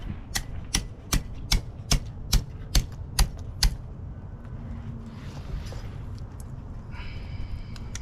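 Repeated chopping of a four-foot alligator gar held up with a vice grip: about ten sharp, evenly spaced blows, loud and close, then quieter handling sounds.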